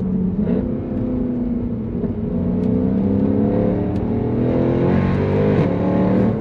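A Mercedes W204 C63 AMG pulls hard in second gear, its engine droning loud and close with steadily climbing, layered tones that dip briefly near the end and then rise again, with no voices.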